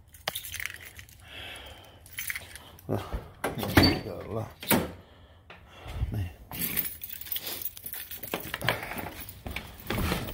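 Car keys for an '85 Cutlass jangle and clink in bursts alongside door knocks and handling noises, with someone talking over them at close range.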